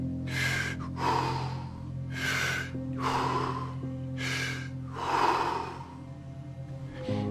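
Deep, forceful Wim Hof method breaths come in a steady rhythm, about six long inhales and exhales, close and loud over a low constant hum.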